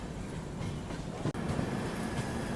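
Dadar Bhuj Express, a long-distance Indian express train, crossing close by, heard as a steady, loud rumble of rolling carriages with a brief dip partway through, no voices.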